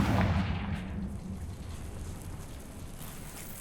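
A fire spell, Confringo, bursts in Hogwarts Legacy with a loud booming blast at the start. It fades into a long crackling, rumbling tail.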